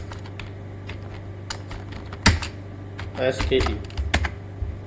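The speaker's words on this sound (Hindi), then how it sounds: "जैसे मैं ChatGPT में लिखता हूँ" Typing on a computer keyboard into ChatGPT produces quick, close clicking keystrokes in irregular bursts, with one louder key strike, while someone speaks briefly partway through.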